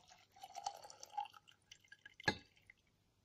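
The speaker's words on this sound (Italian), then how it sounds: "versate tutto il contenuto nel vasetto" Homemade vanilla extract, a mixture of 95% alcohol and vanilla bean pieces, trickles into a small glass jar with faint, irregular drips and splashes and a brighter clink near the end, quiet and close.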